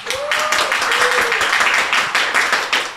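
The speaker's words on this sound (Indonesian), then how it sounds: "Gue minta tepuk tangan dulu semua dong." An audience claps at a comedy-style talk show, a loose patter of hands with distinct individual claps over roughly three seconds, fairly close, with faint voices mixed in.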